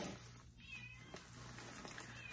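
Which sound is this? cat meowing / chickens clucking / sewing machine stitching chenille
cat meowing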